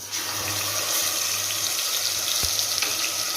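Ground masala paste fries in coconut oil inside a pressure cooker for chicken gravy, making a steady, close, hissing sizzle with one sharp knock partway through.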